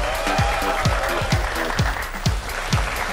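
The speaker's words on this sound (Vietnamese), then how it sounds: "chúng ta sẽ cho một tràng pháo tay thật lớn để chào đón hai bạn nam của chương trình" Studio audience applause welcoming two male contestants on a matchmaking game show, a steady wash of clapping over rhythmic low thumps of background music throughout.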